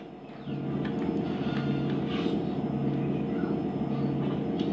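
A continuous low rumble and rattle of a train rolling along in the video game GTA San Andreas, steady and loud throughout with no voices.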